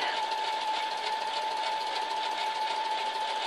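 A sewing machine running continuously at an even speed during free motion quilting of a scalloped pattern, giving a steady close whirring hum with a constant tone and no pauses.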